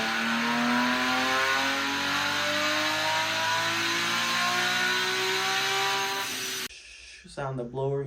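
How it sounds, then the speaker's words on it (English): Supercharged Nissan 370Z engine revving hard, rising harmonic whine climbing steadily for several seconds, loud and close, then cutting off abruptly before a brief bit of speech at the end. "I would say supercharger sounds better than turbo."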